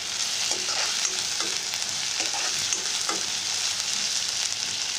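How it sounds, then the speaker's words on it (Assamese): Onions frying in a pan sizzle with a steady bright hiss, punctuated by soft stirring scrapes every second or so, close and continuous with no voices. "এয়া পিঁয়াজখিনি অকণমান ভাজি লৈছোঁ।"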